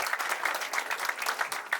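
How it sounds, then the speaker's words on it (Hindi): A room full of wedding guests claps steadily, a dense burst of applause at moderate volume with no voices standing out. "जोरदार तालियां द्वारा हम धन्यवाद देते हैं"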